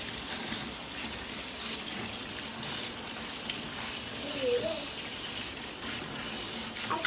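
Tap water runs steadily into a sink while vessels are washed, a continuous mid-level gush with faint clinks and no voices over it.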